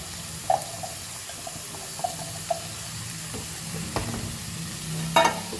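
Cut cluster beans tipped into a pan for Goan foogath, then stirred: soft scraping and light sizzling with a few sharp clinks of a spoon against the pan, moderately close, no talking.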